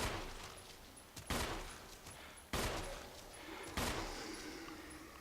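Pistol shots fired at zombies in the video game Resident Evil HD, three loud sharp reports spaced about a second apart, each trailing into a short echoing decay over a low background hum.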